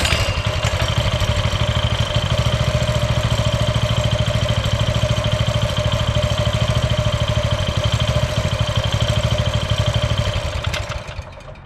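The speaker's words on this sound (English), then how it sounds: "she's got a funny little idle going on" A Coleman CT200U mini bike's small engine idles close by with a steady, rapid putter and a slightly uneven, lumpy rhythm, running alone for about ten seconds before it dies away.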